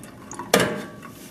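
Canned peach quarters go into a cup of water to be rinsed, giving a single quick clink and splash against the cup, close and brief in a quiet room.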